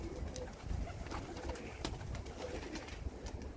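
Pigeons coo softly in low, throaty murmurs against a quiet, hissy background, with no talking.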